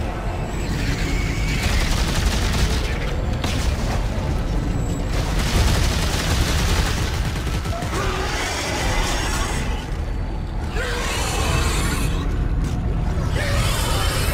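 Continuous heavy gunfire and explosive booms from the Dead Space 3 video game in co-op combat, with dense overlapping bursts and blasts that stay loud throughout with no pauses.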